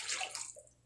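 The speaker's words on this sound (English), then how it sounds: "Next, we're going to add in a 1/2 cup of water." Half a cup of water poured into a pan of taco beef makes a brief, faint splashing rush that fades within a second.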